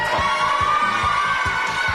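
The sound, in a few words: studio audience applauding the players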